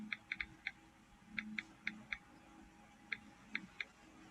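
Light clicking keystrokes in short bursts, some quick runs and scattered single taps, fairly close over a low background hum.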